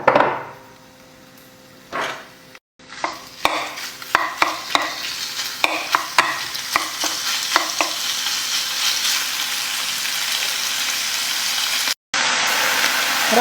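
Chicken pieces for a taco filling stir-fry in a pan with a steady loud sizzle, cut by a run of sharp spatula knocks and scrapes against the pan before the frying settles into a continuous hiss.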